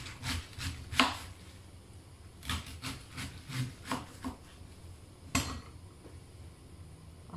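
A knife slices through cabbage for homemade sauerkraut, giving a series of crisp, irregular chopping strokes on a cutting board. The cuts sound close and distinct, with scraping and rubbing between them and no talking.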